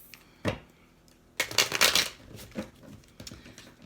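A deck of cards is shuffled by hand, close up: one quick riffle, then a longer burst of rapid flicking and a few softer shuffles afterward.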